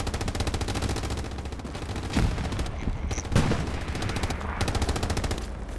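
Rapid gunfire from a Hell Let Loose battle, automatic bursts rattling steadily throughout with a couple of sharper nearby shots standing out, loud and dense with no talking.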